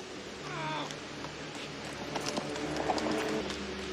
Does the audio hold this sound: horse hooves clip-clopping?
yes